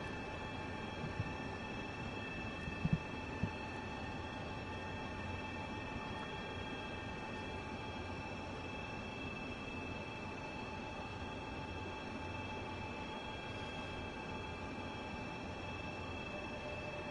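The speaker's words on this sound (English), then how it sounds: "There's another Intercity Express." An Intercity Express train passing in the Train Sim World 3 game, a steady rumbling rail roar that holds evenly throughout with a faint tonal hum, no talking.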